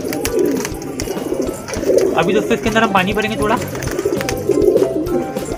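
Domestic pigeons coo softly in repeated throaty bursts at a house, close by and partly under someone talking throughout.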